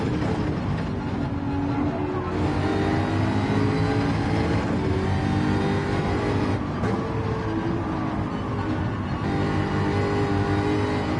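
A Fuji GR3 race car in Gran Turismo 7 revs hard with wheel spin, its engine note loud and continuous, rising and falling through gear changes without a break.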